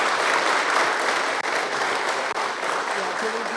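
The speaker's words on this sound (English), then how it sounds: "So if we could give them some recognition and just a round of applause." A room full of people gives a steady round of applause at a government resolution presentation, continuous dense clapping with two brief dips and no let-up.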